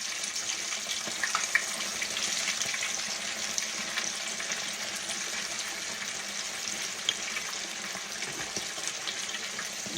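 A whole catfish fries in hot grease in a pan, a steady, close, dense sizzle and crackle with occasional louder pops throughout.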